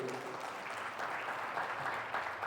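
A church congregation gives a round of applause during a sermon, a fairly soft but steady patter of many hands clapping together, heard from a little distance.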